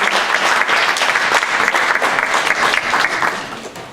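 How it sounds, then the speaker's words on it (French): Steady, loud applause from a crowd at a religious youth gathering, dense clapping throughout that tapers slightly toward the end. "ça vaut vraiment une bonne main d'applaudissement"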